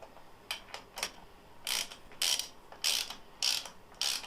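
A ratchet snugs the bolts on a Ford 302 lower intake manifold: bursts of sharp clicking come in quick, regular strokes, about seven short runs, close and clear with a quiet background and no talk.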